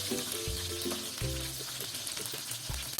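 Peshawari chapli kebabs deep fry in plenty of oil, giving a steady close sizzle and crackle with a few low clanks of a utensil against the pan.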